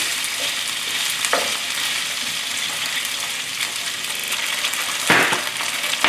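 Thick rice noodles and vegetables sizzle loudly in a hot wok while being stirred, with steady frying crackle and a couple of brief spatula scrapes, close up and with no talking.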